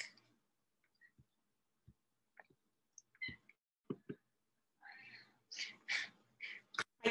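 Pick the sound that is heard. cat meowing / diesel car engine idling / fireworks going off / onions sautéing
cat meowing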